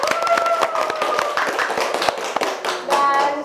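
A small audience at a school organization talk show claps in a quick, uneven patter of handclaps for a few seconds, fairly close and lively, with a voice partly overlapping.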